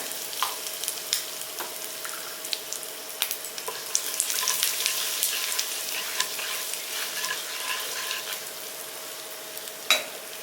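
Mustard seeds crackle and pop in hot oil with scattered sharp spits over a steady frying hiss, close up, no voices, while cooking a Tamil dish.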